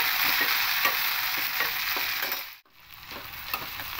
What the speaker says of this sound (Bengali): এবার তেলের মধ্যে পেঁয়াজ কুচিগুলো দিয়ে দেবো, টমেটোগুলো দিয়ে দেবো